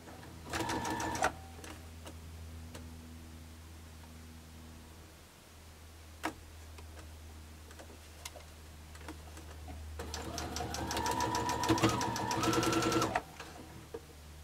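A sewing machine stitches a mini quilt seam in short rapid bursts, one brief run at the start and a longer one near the end, separated by quiet ticking and soft handling sounds.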